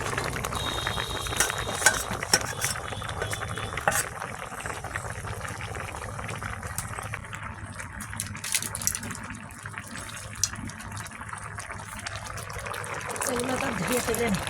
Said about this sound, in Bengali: জল দিয়ে দেবো, চিংড়ি মাছগুলো দিয়ে দেবো